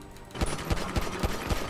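Rapid gunfire in the GTA V roleplay video game, about five sharp shots in quick succession over a noisy background, no speech.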